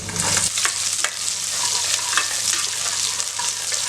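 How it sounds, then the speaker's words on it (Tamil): Quartered small shallots sautéing in oil in a pan for a mixed-vegetable kuzhambu, a loud continuous close sizzle broken by a few stirring scrapes, no talk. "வெங்காயம் நல்லா செவக்க வதக்கியாச்சு."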